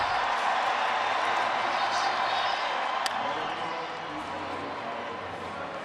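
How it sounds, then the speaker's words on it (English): Broad, steady roar of a large baseball stadium crowd at the Home Run Derby, close and loud throughout, easing slightly toward the end, with a commentator talking over it. "And now the crowd gets into it."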